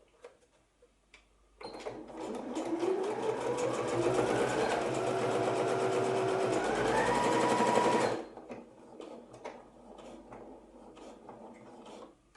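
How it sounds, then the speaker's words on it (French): Sewing machine running a straight stitch through elastic, a close, busy whirring run of about six seconds whose pitch rises as it speeds up, with quiet room sound before and after. "vous commencez à coudre au point droit"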